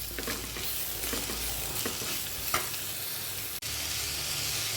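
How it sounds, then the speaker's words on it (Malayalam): Bitter gourd sautéing in a pan with chopped sour mango for a curry, a soft continuous sizzle broken by light stirring scrapes and one brief knock, close and steady. "ഇപ്പം നമ്മുടെ കയ്പ്പക്കായ വഴറ്റി തുടങ്ങിയിട്ട് 5 മിനിറ്റ് കഴിഞ്ഞിട്ടുണ്ട്"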